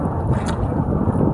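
Strong northeast monsoon wind buffeting a small fishing boat at sea in the Philippines, a loud, dense, steady roar of wind and water with no pauses.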